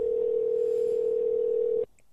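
Ringback tone of an outgoing telephone call: one steady, loud electronic tone that holds for nearly two seconds and then cuts off abruptly into quiet.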